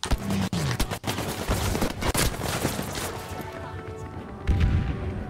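Dense gunfire crackles in Battlefield V, with sharp bursts and booms from a mine explosion amid rapid shots, loud and close throughout the short battle.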